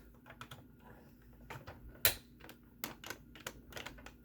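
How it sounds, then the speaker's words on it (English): A blue plastic Earth key pushed into a Transformers Cybertron Cannonball toy gives a run of small dry plastic clicks and taps, with one sharper snap midway, close up and fairly quiet. "So you insert the key in here"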